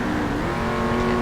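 Race car engines, including a Mustang, Viper and Cadillac, roar at a sustained high drone in a 2000 GARRC racing video game recreation at Homestead. The engine tone is loud, close and continuous, with no voices.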